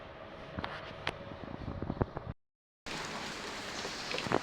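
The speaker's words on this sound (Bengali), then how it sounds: "আর এই যে বৃষ্টি শুরু হয়ে গেছে" Rain beginning to fall outdoors, a dense patter of drops striking surfaces with sharper individual splats, briefly cutting to silence before the steady downpour resumes.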